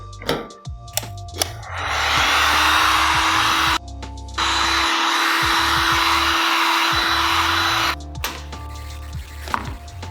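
A heat gun blows hot air over dirt bike graphics: a loud steady whooshing fan roar that runs for a few seconds, cuts briefly, then resumes for several more seconds, with clicks and handling noises before and after.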